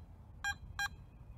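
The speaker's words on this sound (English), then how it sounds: "Press and hold the iron check button and wait for the double beep." A Garrett ATX metal detector gives its iron check double beep, two short, clear electronic tones in quick succession over a quiet background.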